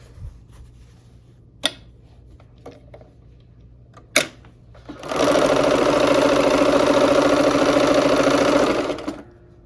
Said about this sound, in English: Okay, and we will sew those together.